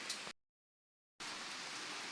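Rain falls steadily as a broad hiss, cut off by a short gap of silence and then resuming, with no speech.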